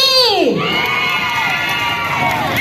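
A crowd at a Christmas lantern festival in a city plaza cheers loudly, with high children's shouts and whoops sweeping up and down, the cheering sustained and close.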